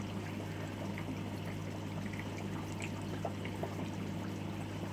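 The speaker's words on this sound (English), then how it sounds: "you can see that little filter there bubbling away just as a big sponge filter would." A small sponge filter in a roughly 3.5–4 litre aquarium bubbles continuously, a steady soft fizzing and trickling with a low constant hum beneath, heard alone at close range.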